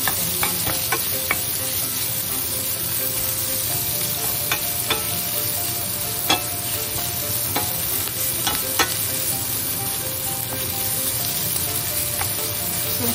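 Green beans sautéing in a pan for an American-style home recipe, a loud continuous frying sizzle with scattered clicks of stirring and utensil taps throughout.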